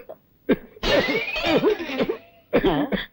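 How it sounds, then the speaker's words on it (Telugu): A man coughs in a short series of harsh, close, loud bursts separated by brief gaps, in a comedy scene. "ఎక్కడిది దగ్గు?"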